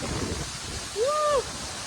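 A steady wash of rushing water from a village waterfall in Khadkona fills the air, broken by a brief high whistling tone partway through.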